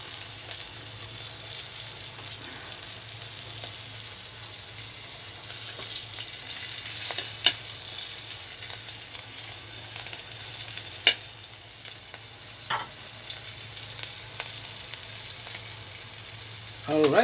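Ginataang lubi-lubi cooking in a pan, a steady close sizzle and simmer throughout with occasional light clinks of a utensil stirring.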